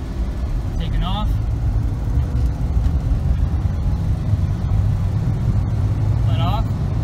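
Car pulling away from a stop in first gear after a transmission repair, a steady close engine drone with someone talking over it and a couple of faint chirps.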